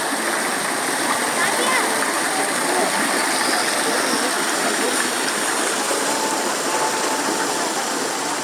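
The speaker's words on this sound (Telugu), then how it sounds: "చూడండి ఫ్రెండ్స్, వాటర్ ఫాల్స్ చాలా బాగుంది, అందంగా" A waterfall at Swarna Giri temple roars steadily and evenly throughout, a dense rushing wash of water with no breaks.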